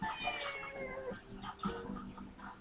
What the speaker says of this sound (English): Oh, and here's my cat.